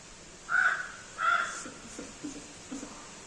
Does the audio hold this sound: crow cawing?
yes